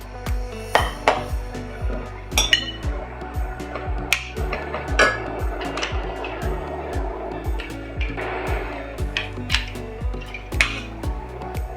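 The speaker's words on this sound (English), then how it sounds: "we need to rice these potatoes. This is a potato ricer." Metal clicks and clanks repeat at an irregular rhythm as a potato ricer presses potatoes in a kitchen, with a faint low background hum under the handling noise.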